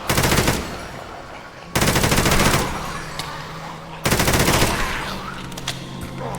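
Three loud bursts of rapid automatic gunfire in a Minecraft zombie apocalypse game, each starting abruptly and rattling on for a second or two before trailing off.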